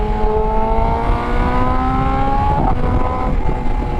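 A 2020 BMW S1000RR liter bike accelerates hard, its engine note climbing in rising sweeps broken by quick shifter gear changes, loud and close under heavy wind rush.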